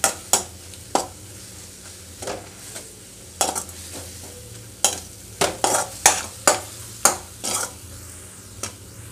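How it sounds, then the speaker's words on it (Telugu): Gongura leaves fry in a pan with a faint sizzle, punctuated by about a dozen sharp spatula scrapes and knocks as they are stirred at irregular intervals, close up and without voices. "చూసారు కదా నాకు ఆకంత వేగిపోయింది."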